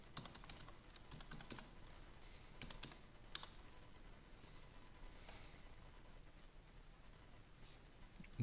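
Password being typed on a computer keyboard during an Office 365 sign-in, heard as a steady run of light, quick key clicks with a few louder taps, close and quiet, with no talking.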